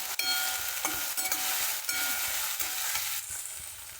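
Chillies sizzle and crackle steadily in a hot pan, with a few scraping stirs and clinks of a spoon, no voices.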